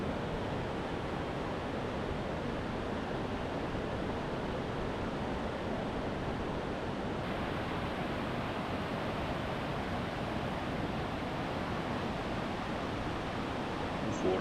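Fast-flowing Narmada river water rushing over the rocky Sahastradhara falls near Maheswar, a dense continuous roar with no pauses.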